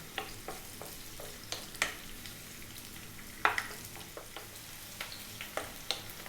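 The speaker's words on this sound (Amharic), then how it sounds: "ሽንኩርታችን እየተጠበሰ ነው።" Onions frying in a pan for an Ethiopian lentil rice dish, a soft steady sizzle with scattered clicks and scrapes of stirring, close and quiet, no talk.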